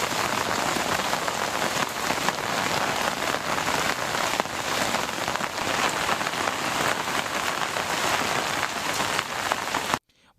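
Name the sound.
heavy rain falling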